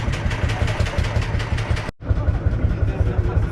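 An old David Brown tractor engine idles close by at an outdoor tractor display in France, with a steady, lumpy chug, briefly cutting out for a moment before chugging on again.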